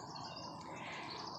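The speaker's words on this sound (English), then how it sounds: "you might be able to hear the birds" Small birds chirp and sing in a park at sunrise, their sweet twittering calls sounding faint and distant over a soft continuous background hush, with no voices.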